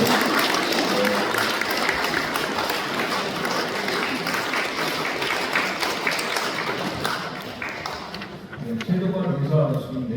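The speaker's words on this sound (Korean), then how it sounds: "감사의 박수 부탁드립니다" A congregation at a Won Buddhist temple Sunday service claps in thanks, a loud, dense, continuous round of applause lasting several seconds that then thins and fades as voices start to come through.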